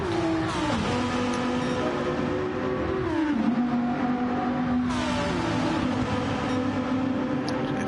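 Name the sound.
race car engine in a racing video game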